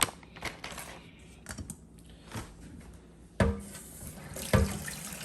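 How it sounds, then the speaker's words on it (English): Cold running water from a tap splashes into a sink, with intermittent clatters and knocks as raw shrimp are rinsed under the flow. "I wash with cold water, guys. Wash with cold water."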